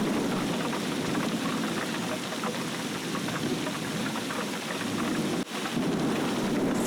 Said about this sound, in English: the storm got worse and worse and worse